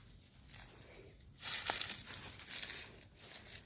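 Crackling, crunching rustle of branches being cut and snapped, with a louder burst of tearing leaves midway; close and fairly steady.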